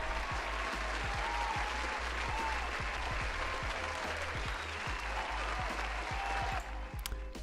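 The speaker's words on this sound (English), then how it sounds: "That deserves an applause." Sustained applause from a small crowd, dense steady clapping filling the whole span, loud and close, with a few brief voices underneath.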